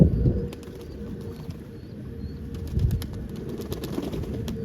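Pigeons flap their wings repeatedly in several quick bursts at close range and give soft coos over an outdoor background rumble. No one speaks.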